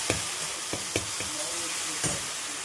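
Vegetarian posto paneer masala fries in oil and butter, a steady moderate sizzle punctuated by a handful of sharp knocks from a stirring spoon against the pan.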